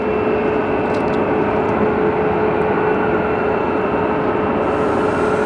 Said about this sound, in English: Learjet 60 landing from Fort Lauderdale